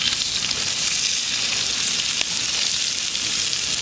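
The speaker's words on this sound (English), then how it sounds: "Hey, we're cooking a steak on a shovel." Ribeye steak with garlic, rosemary and oil searing on a shovel, a loud, close, continuous sizzling hiss that stays even throughout with no voices.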